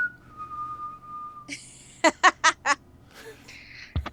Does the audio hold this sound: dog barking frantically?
no